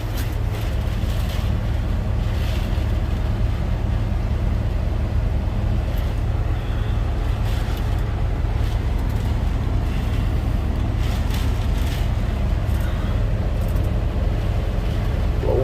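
Strong wind buffets a truck in rain, a loud, constant low roar with gusty rushes filling the whole stretch.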